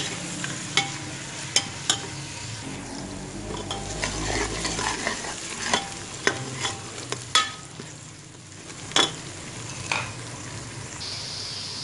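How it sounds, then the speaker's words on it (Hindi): Onions fry in hot oil in a pan while being stirred, with a steady sizzle underneath and sharp scrapes and clinks of the spoon against the pan at irregular intervals, close up. "इसको ब्राउन होने देंगे, प्याजों को सुनहरी कर लेंगे।"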